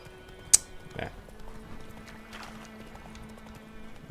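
Horse hooves clip-clop at a trot in The Witcher 3 video game, faint rhythmic hoofbeats under ambient game sound, with a sharp click early and a low thud soon after.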